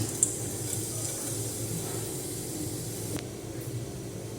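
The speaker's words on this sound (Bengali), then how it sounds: "ওই মাছ ভাজা তেলের মধ্যেই আমি একটু কালো জিরে ফোড়ন দিয়ে দিচ্ছি" Nigella seeds crackle in hot mustard-style oil left over from frying fish, a steady close hiss and sizzle with no talking, heard while a Bengali katla posto curry is cooked.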